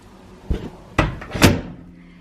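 A Bosch microwave oven door is pushed shut: three close, solid thunks about half a second apart, the last one slightly louder, in a quiet kitchen.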